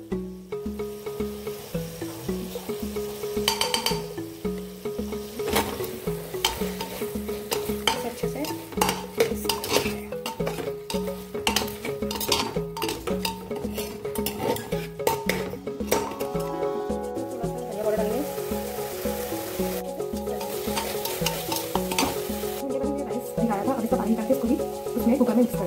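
Tomatoes with salt stirred and mixed in a pan, continuous scraping and clinking of a utensil over a soft sizzle, close and fairly loud throughout.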